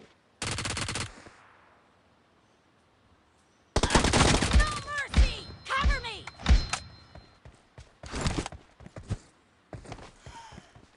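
Bursts of automatic gunfire from the mobile shooter BGMI (PUBG Mobile): a short loud volley, a quiet gap, then longer rapid strings of shots with thuds, under a person talking.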